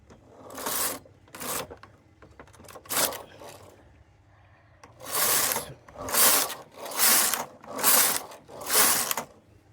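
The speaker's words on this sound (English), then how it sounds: "So right now I'm going to knit 6 rows right now." A knitting machine carriage sliding across rows of a lace pattern, several loud rasping, whooshing passes, the last five in a steady back-and-forth rhythm, close and with no talk.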